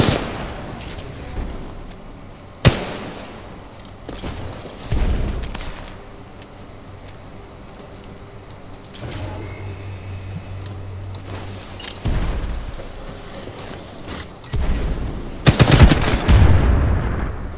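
Gunfire in the video game Titanfall 2, with bursts of automatic fire and sharp single shots scattered over a low steady background hum, fairly loud, with no talking.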